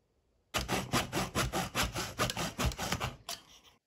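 Close, rhythmic back-and-forth strokes of a hand saw cutting a wooden dowel for a model torpedo boat mast, about a dozen rasping strokes ending with a final short pass.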